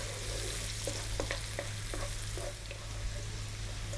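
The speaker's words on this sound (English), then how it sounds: "Let's drop in that 1 cup of onion and the 1 tablespoon of garlic. Above medium heat, just let this go for about 3 minutes," Onion and garlic sizzle steadily in oil over medium heat, with a low, even frying hiss and a few soft clicks of stirring utensils against the pan.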